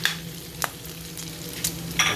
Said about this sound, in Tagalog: magkikisa na tayo ng sibuyas at bawang